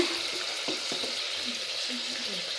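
Ingredients for a soup fry in a little oil with a steady close sizzle, broken by a few soft stirring knocks and scrapes, and no voices.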